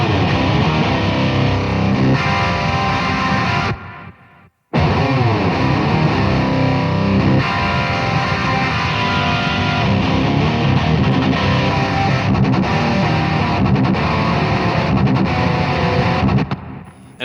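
Heavily distorted electric guitar through a Neural DSP Mesa Boogie MKII C+ amp plugin, played loud and continuous with thick chugging riffs, one short gap near the middle, then ringing out at the end.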